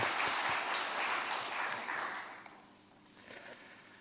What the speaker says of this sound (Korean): 여러분 다시 한번 우리 박수 한번 보내드릴까요?